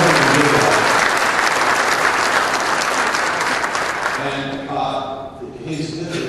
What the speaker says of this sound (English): Well, let's give him a cheer anyway.